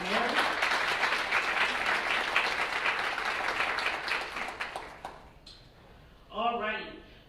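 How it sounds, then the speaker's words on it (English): Guests at a Teacher of the Year breakfast give a round of applause, steady clapping for about five seconds that fades out before a voice speaks over the quiet room. "Let's please give a big round of applause to Mary."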